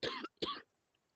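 Two quick, close coughs in succession from a person recovering from bronchitis, followed by near silence.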